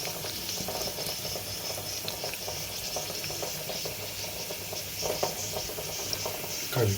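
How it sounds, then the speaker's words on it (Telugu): Cumin, dried red chillies, mustard seeds and curry leaves fry in hot oil as a tempering for snake gourd moong dal, giving a steady moderate sizzle and hiss with faint crackles throughout. "జీలకర్ర, ఎండుమిరపకాయలు వేయించాలి."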